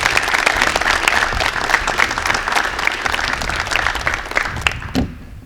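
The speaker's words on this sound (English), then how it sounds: "let's give Erin a big round of applause" Sustained applause from a crowd at a high school athletic signing ceremony, steady and fairly loud for several seconds before breaking off abruptly.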